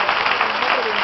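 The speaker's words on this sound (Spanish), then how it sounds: "Denle un aplauso ahora al Señor." Applause ripples through a church congregation, a brief, steady wash of clapping with no pause.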